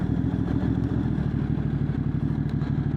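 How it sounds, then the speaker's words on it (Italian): A Voge X-CAPE 1200 motorcycle idles close by with a steady, deep exhaust rumble and even low pulsing throughout, with no talk over it. "lo scarico di questa moto è uno scarico poderoso, pazzesco, fa un rombo"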